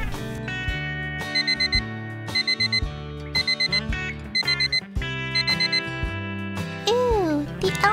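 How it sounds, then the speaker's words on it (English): An alarm clock rings in repeated bursts of bright electronic beeping, loud and close, over a looping cartoon-style music bed, with a sliding whistle-like tone near the end. "Ew, the alarm is loud."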